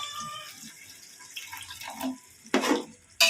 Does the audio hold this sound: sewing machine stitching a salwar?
no